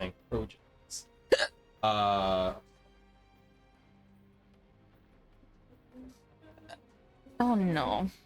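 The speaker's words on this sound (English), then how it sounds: "I got the hiccups" Several hiccups from a person during a casual recorded conversation, brief sharp gulping bursts near the start and again at the end, interleaved with short spoken bits over a quiet background.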